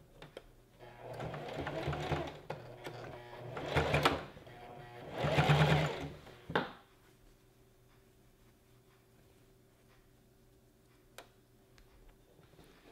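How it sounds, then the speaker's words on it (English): A sewing machine stitches down the raw edge of a gathered maxi dress in three loud bursts of rapid running, each a few seconds long, before stopping into near silence with faint ticks. "we're just gonna sew it down right at the edge just to finish it off"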